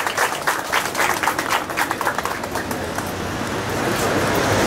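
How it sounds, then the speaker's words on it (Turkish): Audience at a breast cancer awareness event in Mezitli applauding as the mayor is invited to the podium, rhythmic clapping giving way to a broader, steadier wash of applause. "Başkanımız Sayın Neşet Tarhan'ı alkışlarınızla kürsüye davet etmek istiyorum"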